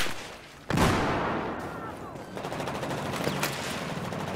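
Battlefield 4 gunfire on the Gulf of Oman map, a loud opening blast followed by a sustained din of shots and battle noise, with faint rapid pops rising toward the end.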